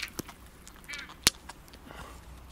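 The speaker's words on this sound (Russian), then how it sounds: "Чайки прилетают." Seagulls arriving over a lake where crucian carp are being caught on a float rod give a few short, scattered calls at a moderate distance against quiet outdoor background noise.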